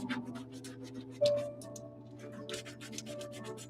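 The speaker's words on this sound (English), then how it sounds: "You just kind of got to feel with your fingers where the sponge is at and only get the sole." A sponge scrubs a sneaker sole in short rubbing strokes during resale cleaning, with faint scraping and small clicks close by and no talk.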